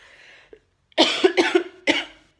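A few harsh coughs in quick succession, close and loud, after a brief faint murmur.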